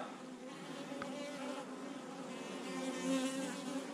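Honeybees buzz steadily at the hives in a dense, continuous drone that holds close and fairly loud from start to finish, swelling slightly near the end, with no voices over it.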